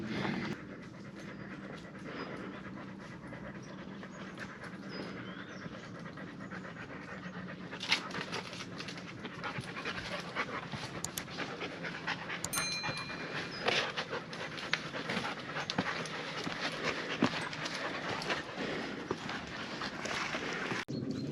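Dogs pant rapidly and steadily close by during a rest after a steep climb, the quick breathing continuing for the whole stretch over faint outdoor background noise.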